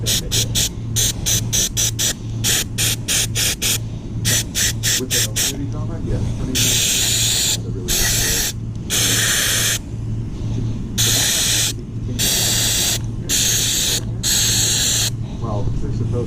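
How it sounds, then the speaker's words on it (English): An aerosol can hisses in rapid short bursts, then in longer sprays onto a Toyota Celica's temperature sensor, close and loud over a steady low background hum. "Spray that little temperature sensor right there, and then spray in here."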